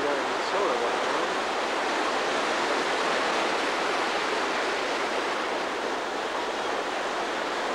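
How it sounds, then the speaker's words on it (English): Ocean waves wash onto a beach with a strong undertow, a continuous hissing surf that stays steady and moderately loud, one wave swelling slightly near the start. "Waves aren't real good."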